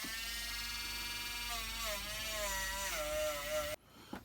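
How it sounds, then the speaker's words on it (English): A cheap Dremel-copy rotary tool whines steadily as it grinds off paint, its pitch wavering under load before it cuts off abruptly near the end. "I'm going to use my rubbishy cheap Dremel copy to do this."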